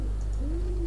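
A pigeon coos in a summer camp video game, one soft rising coo that swells and holds near the end, close and clear over a low steady background hum.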